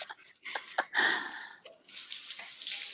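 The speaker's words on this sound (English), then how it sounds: "put it in the water to soak it" Water runs and splashes while cut beef soaks in a kitchen, an uneven hiss with bursts of swishing and a few small clinks, fairly quiet and alone.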